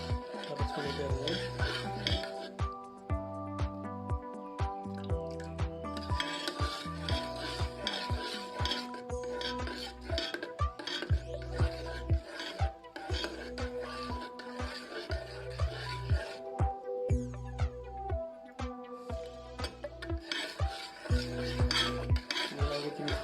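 A spoon scrapes and taps around a pan as milk is stirred with lemon juice added little by little, a steady close rhythm of clinks and scrapes, with music playing throughout.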